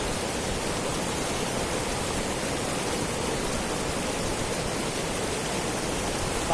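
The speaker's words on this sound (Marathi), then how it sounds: "पाणी खूपच जलद गतीने हे वाहत आहे" Fast-flowing, icy Jhelum river near Pahalgam, a broad, constant rushing roar of water that stays even and loud throughout, with no voices.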